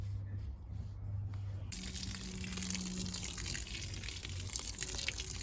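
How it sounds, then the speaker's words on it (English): Water pours and splashes steadily onto soil as plants in a fountain bed are watered in, a broad hissing gush that starts abruptly and continues, close and moderately quiet. "and I'm gonna just water them in."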